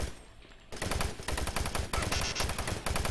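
Rapid automatic gunfire in the video game DOOM 3, a dense loud stream of shots after a brief quieter start, running almost continuously with short gaps.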